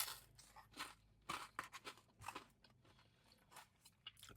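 Crunchy Papa Gino's Rustic Southwestern pizza crust being bitten and chewed close up, a string of crisp crackling crunches in bursts with no talking.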